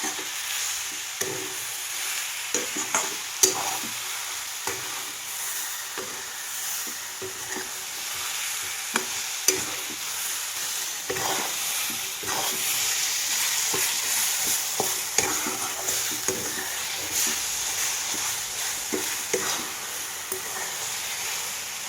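Amla and sugar are stirred in a pan as the sugar melts down for amla candy, giving a soft steady sizzle. Irregular scrapes and clinks from the spoon against the pan break through it, near and with no talk.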